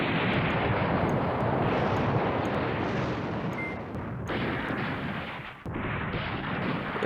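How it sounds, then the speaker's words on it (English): Artillery barrages in the wargame Command Ops 2, a dense continuous rumble of overlapping booms and blasts that rolls on for several seconds with brief dips, loud and unbroken. "We've got some decent artillery here"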